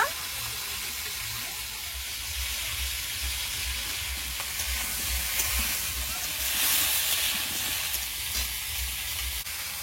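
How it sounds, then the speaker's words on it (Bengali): Cauliflower, potato and carrot fry lightly in oil with salt in a kadai, giving a steady, close, hissing sizzle that runs unbroken for the whole stretch with no one talking. "ফুলকপি, আলু আর গাজরটা হালকা ভেজে নেব"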